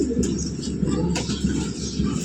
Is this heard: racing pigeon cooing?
yes